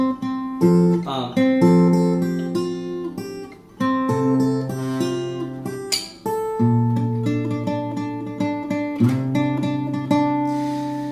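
Plucked guitar notes ring out fingerstyle in a slow, clear pattern, several strings sounding together with single notes picked between them, played close and alone.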